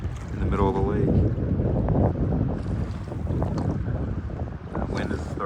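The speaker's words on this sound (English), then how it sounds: "It is really windy." Strong wind gusting over a choppy, whitecapped lake during a kayak outing, a loud blustery rush buffeting the microphone, with water noise and someone speaking over it.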